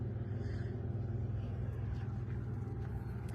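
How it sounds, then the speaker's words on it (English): An RV generator runs steadily near a truck stop, a continuous low, rumbling drone with an even texture and no breaks. "that's just my generator if you hear that."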